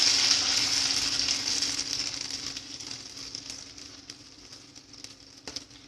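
A paste of garlic and ground mustard sautés in refined oil for a village-style kadugu kulambu, sizzling in a bright hiss that starts strong and slowly fades, with a few faint clicks near the end.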